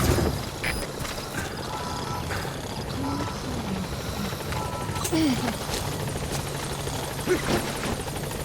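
In the video game Metal Gear Solid V: The Phantom Pain, a helicopter's rotor thrums steadily as it arrives, loud and continuous, with occasional clicks and brief tones layered over the noise.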